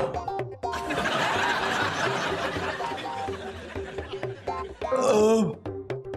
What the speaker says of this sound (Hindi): आ गई डकार।